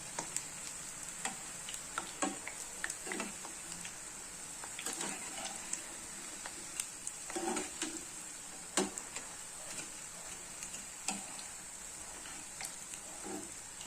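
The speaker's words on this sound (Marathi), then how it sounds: "दोन मिनटं फ्राय होऊ द्यायचंय" Jalebi frying in hot oil gives a steady bright sizzle, broken by scattered crackling pops and occasional stirring clicks. It runs close and fairly loud throughout, with no talking.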